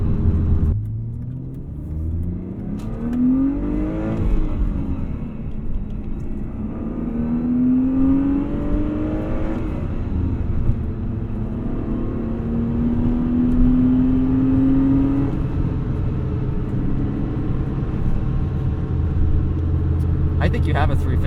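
A 1992 BMW E36 325i with its inline-six engine drones steadily while driving. Its pitch climbs through gears in several smooth rising sweeps over constant road rumble, near and moderately loud.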